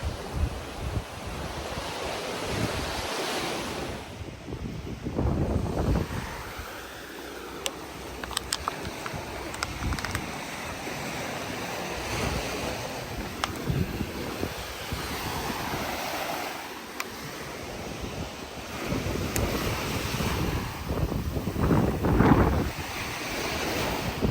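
Surf washing onto a small beach in Okinawa, Japan, with waves breaking and receding in steady surges, heavy wind buffeting the microphone throughout.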